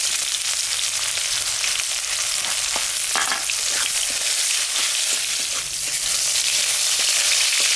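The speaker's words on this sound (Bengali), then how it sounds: "পেঁয়াজটা ভাজা হয়ে গেছে" Onions sizzle in oil left from frying fish, tempered with dried chilli and cumin, as a loud, steady crackling hiss with scattered stirring scrapes and taps throughout.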